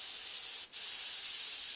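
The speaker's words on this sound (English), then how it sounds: "And once again, it'll probably spray purple." An airbrush sprays paint in a steady, close hiss that breaks off for a split second and then resumes just as strongly.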